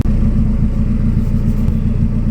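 A car idles just after startup with a newly installed 72 mm throttle body, giving a steady, loud, close engine rumble with no talking.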